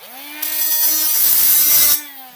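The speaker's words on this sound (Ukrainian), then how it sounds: "Беремо матеріал, беремо болгарку." An angle grinder is spark-tested on stainless steel. A motor whine rises, then a loud, harsh grind lasts about a second and a half before the tool winds down, alone with no talk.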